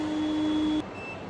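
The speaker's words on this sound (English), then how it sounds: "we're back and have the key in, as you can tell by the beep. Warning chime." Key-in warning chime of a 1985 Toyota Celica GT-S convertible: a single steady electronic tone, close and fairly loud, sustained for most of a second before cutting off to a quieter background with a faint higher tone.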